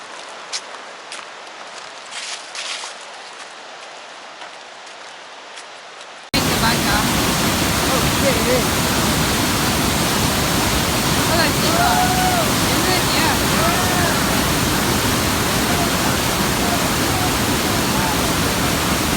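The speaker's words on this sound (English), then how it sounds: "we're almost to the Weisser Creek waterfall here" Loud, steady roar of rushing water from nearby Weisser Creek waterfall on the Appalachian Trail fills the recording after a quieter outdoor start with faint voices.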